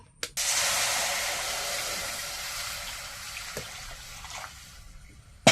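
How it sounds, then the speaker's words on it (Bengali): A steady hissing rush of water poured into a cooking pan, starting abruptly and lasting about four seconds, loud and close, then fading gradually, with a faint clatter at the end. "এবার জল দিয়ে দেবো।"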